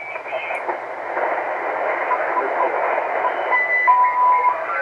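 An amateur radio at a backyard field day setup is tuned to the 40 meter band, giving a steady hiss of static and a warbling, eerie tone with a brief whistling carrier near the end.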